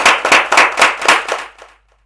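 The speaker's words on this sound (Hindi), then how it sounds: "जोरदार तालियां बजाइए यीशु के जलाल के लिए" A church congregation claps loudly and close at a Christmas service, a burst of several distinct, rapid hand claps that quickly thin out and stop within about two seconds.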